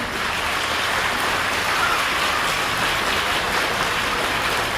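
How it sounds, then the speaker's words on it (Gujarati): An audience at a school women's empowerment event claps loudly to welcome visiting sisters, a dense, steady wash of applause that runs without a break and carries no speech over it. "એમના માટે જોરદાર તાળીઓ દ્વારા આપણે સ્વાગત કરીએ"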